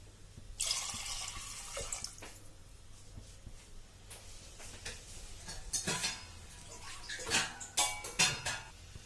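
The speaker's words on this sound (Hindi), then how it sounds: "अब मैं इसमें 1 गिलास पानी डाल दूंगी।" Water from a glass is poured into a pot of Sindhi-style whole moong dal in a home kitchen, making faint, intermittent splashes and trickles with a few quick gurgling bursts near the end and no talking.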